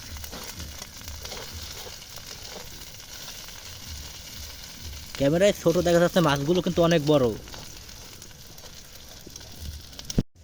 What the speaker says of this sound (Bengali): আমাদের মাছ ভাজা হয়ে গেছে, পুরোপুরি হয়ে গেছে তৈরি